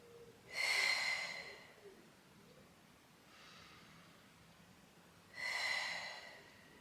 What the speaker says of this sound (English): Take 2 more deep breaths here.